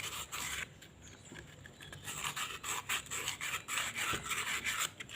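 Sandpaper rubbed by hand over the inside of an imitation clutch cage for a Yamaha Vega ZR motorcycle, a close, steady rasping scrape in repeated short strokes with no talking.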